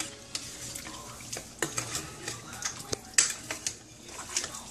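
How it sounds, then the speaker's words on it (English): A spoon briskly stirs gravy as flour is poured in for Jamaican oxtail, giving repeated scraping and clinking against the pot in an irregular rhythm, close and clear over a faint sizzle. "I'm going to be mixing real fast while I'm pouring to make sure it don't get hard and to make sure it don't come into a clump"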